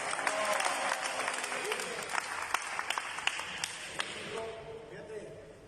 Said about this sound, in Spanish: Un aplauso para Pico.